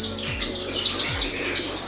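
Gouldian finches, a star finch, a long-tailed finch and a young cutthroat finch chirp together in an indoor bird room, making rapid overlapping high tweets with a continuous chattering texture.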